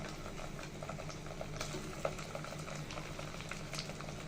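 Ginger-garlic paste and whole spices fry in a pan for an olive pickle, giving a steady low bubbling sizzle with faint stirring scrapes, close and moderately quiet, no voices.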